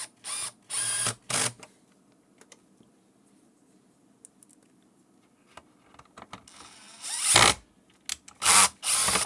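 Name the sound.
power screwdriver driving screws into headset base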